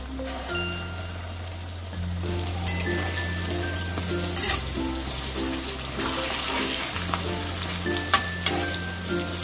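Pea lentil fritters (matar dal bora) frying in hot white oil over a medium gas flame, giving a continuous close, crackling sizzle with small pops and spatters, and no talk.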